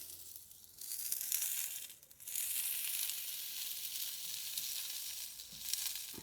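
Smash burger patty pressed flat onto a barbecue griddle oiled with spray, a faint steady sizzle that swells after a brief pause and continues with soft crackling, heard alone without talk.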